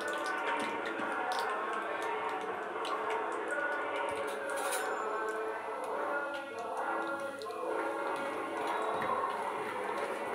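Peanuts fry in hot oil for a spicy puffed-rice snack, a soft, steady sizzle with scattered crackles and pops, faint and continuous.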